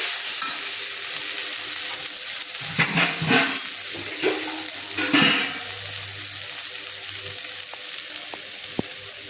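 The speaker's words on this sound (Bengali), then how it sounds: "আমি এর মধ্যে সেদ্ধ হওয়ার জন্যে জল দিয়ে দিচ্ছি।" Water poured into a sizzling Bengali fish curry with bitter gourd and potato, the hot oil flaring into bursts of hiss and bubbling, then settling to a quieter simmer with a few utensil taps.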